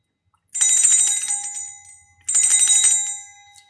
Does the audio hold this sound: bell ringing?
yes